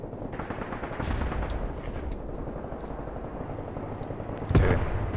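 Mortar strikes and gunfire crackle through the Graviteam Tactics battle: dense, continuous rattling small-arms fire and distant thuds, with one heavier close impact booming near the end.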